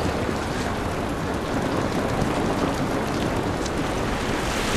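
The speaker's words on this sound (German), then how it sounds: "Dieser Regen ist nicht gut für uns." Rain in the video game The Last of Us falls as a steady, dense hiss that stays even throughout, with no other sounds standing out.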